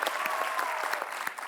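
A studio audience on a comedy talk show claps loudly and continuously to welcome a guest onto the stage, dense applause with no break.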